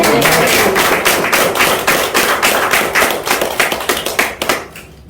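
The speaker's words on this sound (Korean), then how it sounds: "박수!" Congregation applauding at a Presbyterian pastor ordination ceremony, loud, rapid clapping from many hands that thins into scattered individual claps and fades out near the end.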